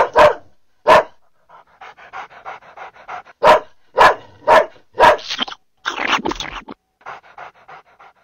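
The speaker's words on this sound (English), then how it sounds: "A big dog." A big dog pants heavily in quick, loud bursts, then breaks into several close barks and a short whimpering whine, all alone without any talk.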